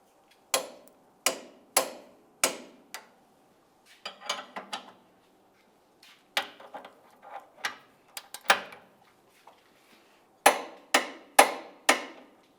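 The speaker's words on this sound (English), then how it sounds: "Torque each of these to 100 foot-pounds." Clicking of a torque wrench tightening the rear lower control arm bolts on a 1998-2002 Lincoln Navigator, a series of sharp metallic clicks, some in quick repeated bursts, close and fairly quiet with no talking.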